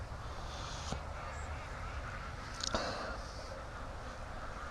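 A couple of brief duck quacks from free-range ducks, faint against steady outdoor background noise, one around the first second and a louder burst a little later.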